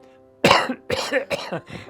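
A voice imitates coughing: four or five harsh, forced coughs in quick succession, close and fairly loud.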